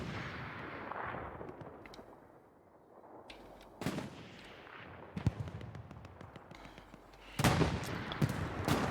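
Gunfire and heavy cannon blasts from a tank battle in the WWII shooter Hell Let Loose, with sharp loud reports around 3.3, 3.8, 5.2 and 7.4 seconds over a constant rumbling battlefield din.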